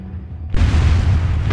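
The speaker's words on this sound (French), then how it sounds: "Je vais être obligé d'utiliser le sniper." A sniper rifle shot in the video game Resident Evil 4, a single loud, sudden boom that cuts in after a quiet moment and rolls on as a dense, sustained blast.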